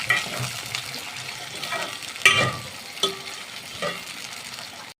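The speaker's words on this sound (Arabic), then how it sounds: "نشوحهم كده معانا" Small onions sauté in a pot for Egyptian koshari, a soft sizzle with scattered stirring clatters and scrapes, close and moderately loud, no voices.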